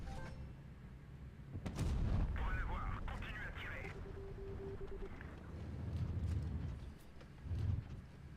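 An AMX tank cannon fires in a tank video game: one loud booming shot, followed by rumbling battle noise and a brief tonal hum.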